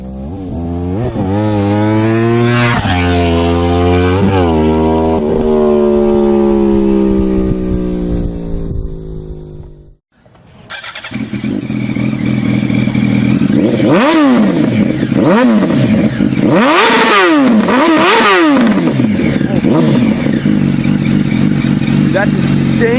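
A motorcycle with an aftermarket exhaust revs hard up through the gears, rising loud engine pitch with each shift, a brief drop between runs, then more aggressive revving with voices talking over it.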